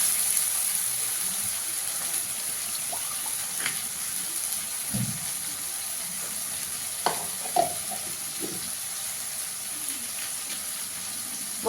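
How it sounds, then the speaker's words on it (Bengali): Masala sizzles softly in a pan for a fish curry as it is stirred, with a steady hiss and a few scattered scrapes and clinks, close but fairly quiet with no voices. "মশলাটা একটু ভালো করে কষিয়ে নেব।"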